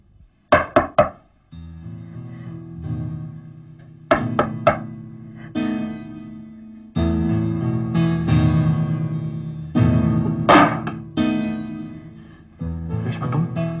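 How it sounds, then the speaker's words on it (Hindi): Two sharp knocks on a door open the sequence, followed by sustained tonal music swells and further percussive hits layered in a television drama scene. "तुमने दो बार नॉक किया"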